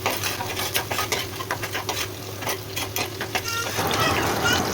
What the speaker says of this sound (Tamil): சின்ன வெங்காயம் நல்லா பொன்னிறமாக வதங்கட்டும்